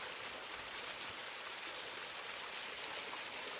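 Small fountain of water trickling off a huge rock beside a backpacking trail near Laurel Falls on the Appalachian Trail, a steady close splashing wash with no talk.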